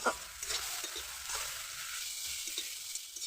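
Ash gourd stirred in a pan with salt, turmeric and slit green chillies. It gives a soft, steady sizzle, with a few quiet scrapes of the spoon and no talk.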